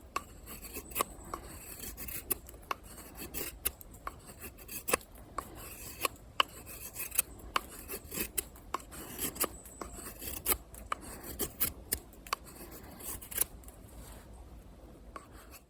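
A Condor Terrasaur Scandi knife with a 1095 steel blade shaves a featherstick from wood in close, repeated scraping strokes with sharp crisp peaks, a steady rasping rhythm heard alone at moderate loudness.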